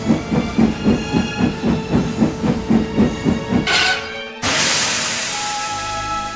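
A steam engine chuffs in a steady rhythm, then a burst valve lets out a sudden loud hiss that cuts off abruptly and gives way to a lingering rush of steam.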